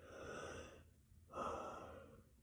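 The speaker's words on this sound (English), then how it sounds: "Excuse me, I'm so sorry for yawning." A woman yawns during a tired stretch in a yoga session, two long breathy airy exhalations separated by a short pause, quiet and close with no words.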